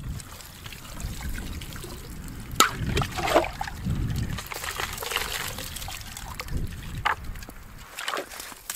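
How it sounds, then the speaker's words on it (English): Lake water being poured into a reused 4-liter grocery-store jug on a snowy winter camping trip, a steady close trickle and slosh running throughout with a few sharper splashes. "Getting our water for the night here. I just bring in a 4-liter jug from a grocery store, which I reuse."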